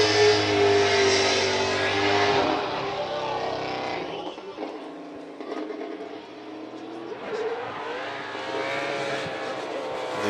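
Race car engine howls through a qualifying lap at Fuji International Speedway, loud and close, rising and falling as it lifts off and gets back on throttle through the corners, with a voice talking over it.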